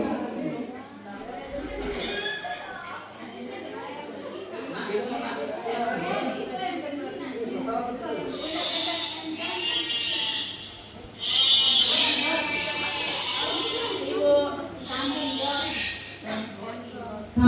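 Students in an English class for young learners imitate a goat or sheep with bleating cries, several loud voiced bleats rising out of steady classroom chatter and talk.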